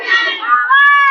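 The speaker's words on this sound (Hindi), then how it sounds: "ये देखिए चारों तरफ एक ही आवाज, आंगनबाड़ी कार्यकर्ता जिंदाबाद और सरकार मुर्दाबाद।" Anganwadi workers at a protest chant slogans against the government, a brief burst of loud, overlapping shouted voices rising into a sustained unified cry.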